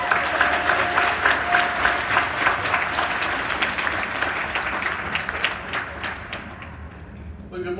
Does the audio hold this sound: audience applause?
yes